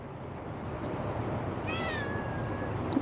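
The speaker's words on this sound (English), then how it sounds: "Hood cats passing through, y'all." A single stray cat gives a clear, drawn-out meow partway through, moderately close over a steady outdoor background hiss, with no talking.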